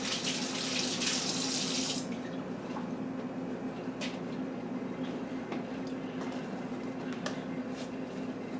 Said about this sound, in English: wash my hand off again here.